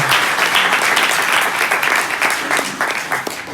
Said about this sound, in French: on peut applaudir Pamela d'abord.